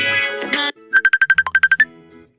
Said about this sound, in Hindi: मैसेंजर का जो कॉल है ये।